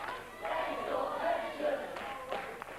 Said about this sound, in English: The crowd chanting, "Where's your pension?"